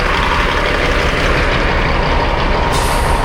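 A truck's air brakes hiss steadily on a roadside during a steer tire blowout repair, a loud, continuous broadband rush with an engine rumbling underneath and a slight shift near the end.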